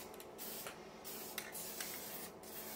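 An aerosol can of spray paint with a clogged nozzle hisses in a faint, steady spray, broken by a few brief sputters and pauses.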